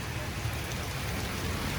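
Rain falls steadily in Tulum, a dense broadband hiss of drops on surfaces, constant and fairly loud, with faint voices underneath.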